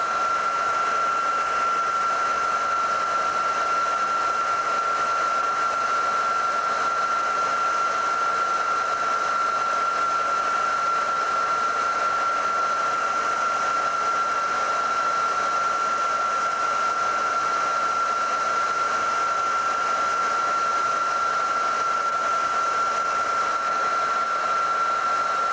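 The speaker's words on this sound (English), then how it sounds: "The heat gun we're using is a 1500 watt heat gun on the low setting" A 1500 watt heat gun running on its low setting, blowing steadily onto a circuit board with epoxy, a constant close whooshing hum with a fixed whine and no pauses or talk.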